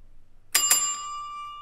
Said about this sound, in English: just ring the bell.